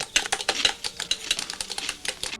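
Rapid typing at a keyboard or typewriter in a home setting, with crisp uneven key strikes in quick bursts, fairly close and alone with no talk.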